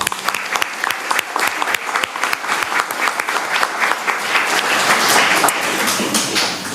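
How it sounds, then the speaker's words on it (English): Strong, close audience applause at a startup showcase event. Many rapid overlapping claps start out crisp, then swell into a denser, louder wash near the end. "give an extra round of applause for Alison"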